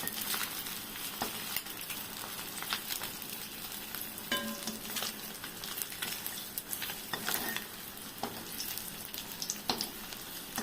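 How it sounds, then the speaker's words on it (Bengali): Rohu fish kofta balls fry in very hot oil, a dense, continuous close sizzle and crackle with scattered sharp pops throughout. "দুটো তিনটে করে দিয়েই আস্তে আস্তে ভেজে তুলে নিচ্ছি তেলটা একটু বেশি গরম হয়ে গেছে"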